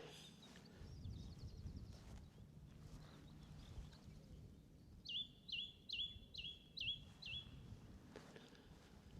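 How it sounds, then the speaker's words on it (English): A song thrush sings from nearby, a run of five or six sharp, repeated whistled phrases in quick succession after a quieter stretch of faint outdoor ambience. "That's a smart song thrush, eh?"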